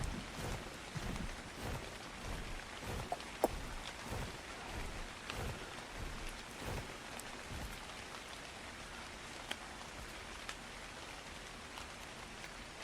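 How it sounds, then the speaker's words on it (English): Rain falling in the video game Ark Ascended, a steady soft downpour with scattered drop taps, faint and continuous with no voices over it. "Because it's raining."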